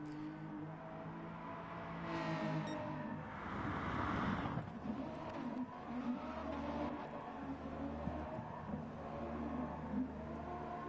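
A police car drives around a racetrack in the GT Sport racing game, its engine a steady mid-level drone that swells and revs for several seconds before settling back, with faint tire noise underneath.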